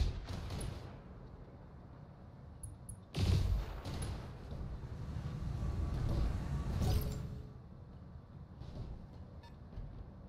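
AC-5 autocannons firing in BATTLETECH: a heavy, booming blast around the middle, followed by a long rumbling roll of impacts and mechanical noise that swells and fades, with faint earlier thuds.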